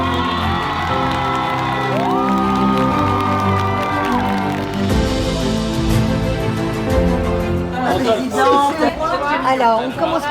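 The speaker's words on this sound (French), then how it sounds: "Regardez, vous pouvez vous applaudir" Educators and children at an awards evening cheer, whoop and applaud, with lively chatter and shouts rising over a background of music that fades as the crowd noise swells toward the end.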